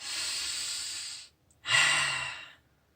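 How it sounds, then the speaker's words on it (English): A slow, deep breath in, then a brief pause and a long, airy breath out during a calm breathing exercise, close and clear, with no other sound. "So nice big breath in, letting go."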